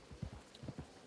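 Hooves of a horse clip-clopping in a video game, a quick, low run of soft thuds in an uneven walking rhythm, fairly quiet and close.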